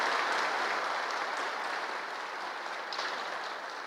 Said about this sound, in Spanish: Yo quiero que manden un aplauso de oración al Señor por ellos.